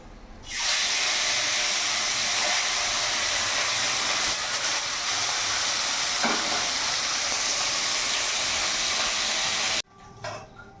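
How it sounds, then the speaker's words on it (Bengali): Remaining lata fish frying in mustard oil in a kadai, a loud steady sizzle and hiss that runs unbroken for about nine seconds, then cuts off abruptly near the end. "বাদ বাকি মাছগুলো আমি ভেজে নেবো।"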